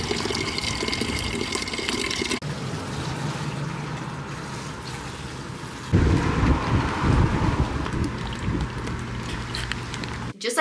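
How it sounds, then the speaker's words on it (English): A garden water container fills from a running water source, a steady rushing stream that shifts in tone partway through as the flow or level changes, close and continuous without talk. "I need to fill this thing up with some more water"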